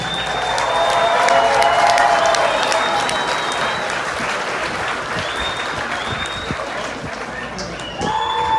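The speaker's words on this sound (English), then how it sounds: "feel free to give them a big round of applause and a welcome to Raleigh" A crowd in Raleigh, North Carolina, applauds and cheers to welcome racing legends at a motorsports event, sustained loud clapping with scattered whistles and shouts.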